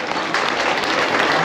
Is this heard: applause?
yes